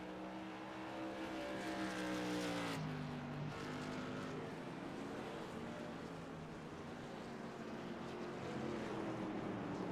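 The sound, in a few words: race trucks on track at New Hampshire Motor Speedway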